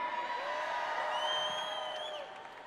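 A crowd at a Keller Williams event in Dallas roars with whoops and cheers, sustained and fairly loud at first, then easing down toward the end.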